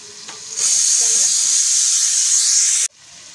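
Potatoes, carrots, cabbage and beans hiss and sizzle steadily in a hot pan with curry leaves and tomato, a loud continuous frying roar that cuts off abruptly near the end.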